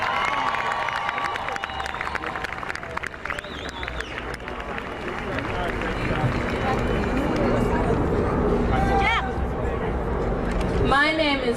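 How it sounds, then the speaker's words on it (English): A large crowd at a Washington DC march claps and cheers, a broad steady wash of applause mixed with chatter and scattered shouts, swelling louder toward the end, with voices talking over it. "Give them a big hand."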